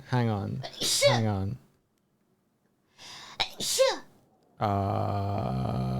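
Two sharp child-like sneezes, each a burst of breathy noise, separated by a pause, with a voice speaking before and after them.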